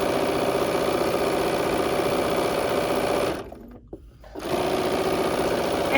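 A sewing machine stitches teal and white fabric strips together for a quilt in a loud, steady mechanical whir, briefly stopping and then resuming.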